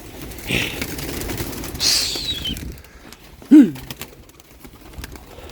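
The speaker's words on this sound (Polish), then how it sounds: "gołębeczki z rana od razu sąsiada przyszły" Pigeons flying over in the morning: brief bursts of wing flapping and a single short call, heard outdoors at moderate distance against quiet background, with no talk.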